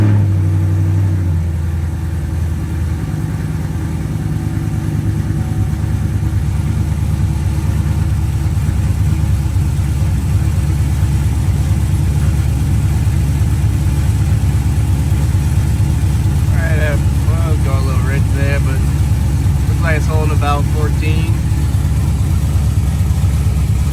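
A car with a stage 1 cam idles steadily and close up after an AEM air fuel ratio gauge install, with a low, even rumble throughout and a few brief, faint voice-like sounds near the end.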